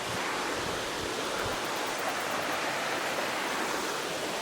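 River flowing under a bridge in Mississippi, a steady, loud broadband rush of water with no breaks and no voices.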